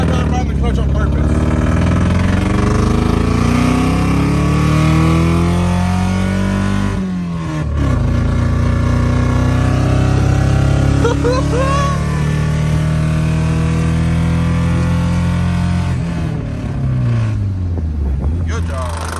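A cheap Honda Accord with a full straight-pipe exhaust revs loudly and continuously, its raspy drone rising and falling through several pulls while people talk over it nearby.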